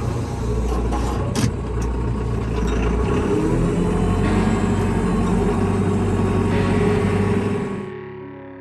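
Truck engine rumbles steadily while pulling a loaded Featherlite 16 ft bumper-pull cattle trailer after being put in gear, a loud low drone holding for several seconds before fading off at the end.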